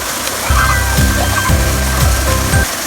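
The warm waterfall at Phu Sang in Phayao, Thailand pours in a steady, loud, close rush of falling and splashing water, with voices faintly audible underneath.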